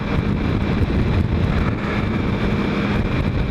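A motorcycle in motion with heavy wind buffeting the microphone over a low engine rumble, continuous and loud throughout.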